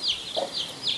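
A chicken clucks close by in a short series of sharp, nasal calls, four quick clucks in about a second, loud and clear against a quiet background.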